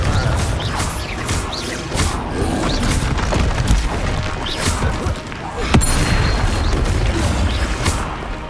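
A Confringo blasting-spell explosion goes off in the video game Hogwarts Legacy, one sharp blast rising out of a dense, continuous wash of loud combat and magic effects.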